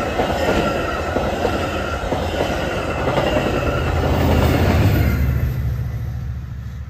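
An inbound Metra commuter train pushed by an F59PHI locomotive rolls past at Lakeville with a loud, continuous roar of wheels and rail noise, squealing faintly as it passes and easing off toward the end.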